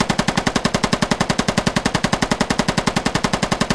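Gunfire in a military video game: a rapid, steady stream of loud automatic shots, evenly spaced and continuous throughout, with no voices over it.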